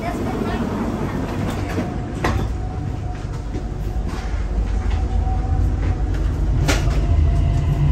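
A Dubai Metro Red Line train pulls away after its doors close, with a loud, steady rumble of running gear and a cabin hum, plus a few clunks and rattles along the way.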